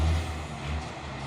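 Hino truck going by on a road, its air brake hissing as a steady, fairly loud rumble and broadband whoosh with no talk over it.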